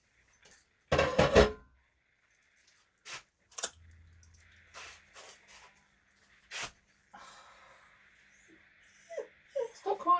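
Dolly the dog whines in short, high whimpers between kitchen clatter of a pan and utensils, with people talking nearby.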